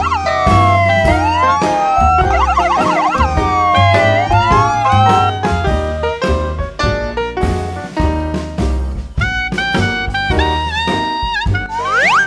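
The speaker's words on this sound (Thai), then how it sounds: "ambulance รถพยาบาล" A loud siren wails up and down continuously over a busy, cluttered mix of other sounds, steady and near throughout.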